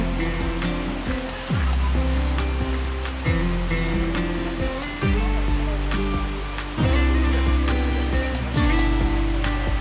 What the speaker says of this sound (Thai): เดี๋ยวไปถ่ายบรรยากาศน้ำตกใกล้ๆให้ดูเลยค่ะ